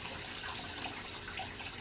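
Steady rushing, hissing water spray from jets inside a vintage 1977 Hobart KitchenAid Superba portable dishwasher, heard with the door open, continuous and fairly faint.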